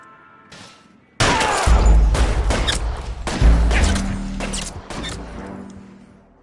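Gunfire erupts in L.A. Noire: a loud volley of close shots with sharp cracks and booming thuds, several rapid reports clustered together, then trailing echoes and a few scattered shots fading out.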